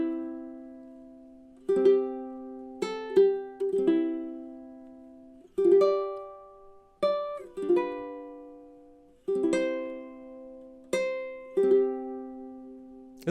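Acoustic guitar carries the full eight bars of Silent Night, melody woven with chords. Each plucked note or chord rings and fades in a gentle, unhurried rhythm, played close and solo without any voice.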